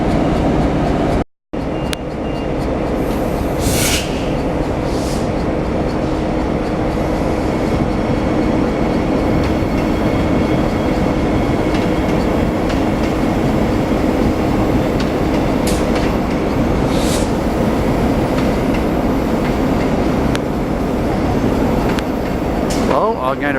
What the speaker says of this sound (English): we're looking at a locomotive